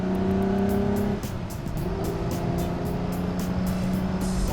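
A 1963 Ferrari 250 GTE engine under way while driving, a steady engine note that dips briefly and then pulls again, fairly close and loud with no talk.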